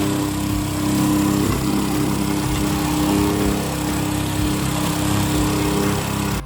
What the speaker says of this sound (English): the vibrating plate compactor, relatively level and flat